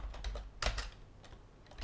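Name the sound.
typing a command on a computer keyboard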